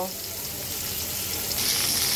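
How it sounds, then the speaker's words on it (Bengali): Stinging catfish pieces frying in hot oil, a steady, dense sizzle with a hiss that thickens slightly toward the end, close and continuous without talk. "এখন আমি মাছটাকে সুন্দর করে ভেজে নেব।"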